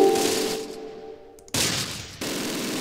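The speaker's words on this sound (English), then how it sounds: "The Panther is opening fire on that position." Gunfire and tank cannon fire in the Close Combat video game, with a German Panther tank in action: a burst of sharp cracks fading into a rumbling tail, then two more abrupt loud blasts in quick succession.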